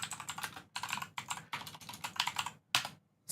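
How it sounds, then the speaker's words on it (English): Rapid clacking keystrokes on a mechanical keyboard come in quick bursts with short pauses between them, close and fairly quiet, with no voices. "Satisfaction of mechanical keyboards."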